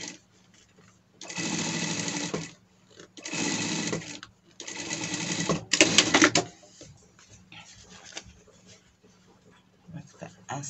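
A sewing machine topstitches a leather pet harness in four loud, steady runs with quiet gaps between them, while someone talks over and between the stitching.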